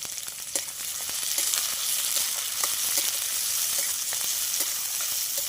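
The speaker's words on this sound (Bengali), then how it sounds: "পেঁয়াজটা লাল লাল করে ভেজে নেব" Chopped onions and green chillies fry in oil in a pan, giving a steady, close sizzle with scattered crackles and light stirring clicks throughout, no talking.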